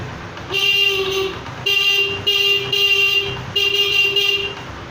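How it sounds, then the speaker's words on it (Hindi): A motorcycle horn, run without a battery through a capacitor, honks in four sustained blasts separated by short gaps, loud and close, with a bright buzzy tone. "हॉर्न का साउंड किस तरह से आता है"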